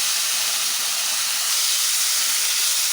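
Chopped onion, two tomatoes and curry leaves fry in a pan for a ridge gourd curry, giving a constant, loud, airy sizzle with no pauses and no talking.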